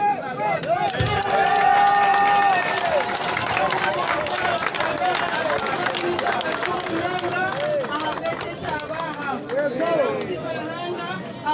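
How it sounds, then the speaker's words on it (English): A crowd at a gathering stands and claps with cheering and excited chatter, rhythmic hand claps mixed into loud overlapping voices and shouts throughout. "I request that all of us stand up and clap our hands to the Lord"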